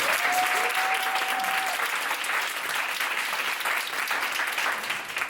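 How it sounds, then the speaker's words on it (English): A launch-presentation audience applauds steadily and fairly loudly throughout, a dense wash of clapping with a brief whistle or tone near the start. "if you guys wouldn't mind just giving her like a round of applause"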